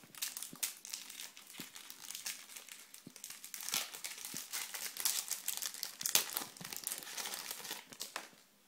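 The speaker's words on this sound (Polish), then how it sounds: "Pierwszą saszetkę otwieramy z Messi." Panini World Cup Brasil 2014 sticker packet torn open and handled, a close, continuous crinkling and crumpling of foil wrapper with sharp tearing snaps throughout.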